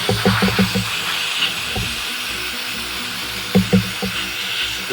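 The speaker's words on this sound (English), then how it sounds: "First I'm going to blow it off because there's a lot of dust when you sand it." Compressed air blowing sanding dust off a carved pine wood panel: a steady hiss of air throughout, with a few soft knocks and handling thumps breaking through.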